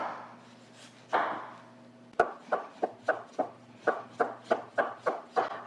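A sharp knife slices food thinly on a cutting board in a steady run of crisp, close taps, a couple of slower cuts first and then a quicker even rhythm.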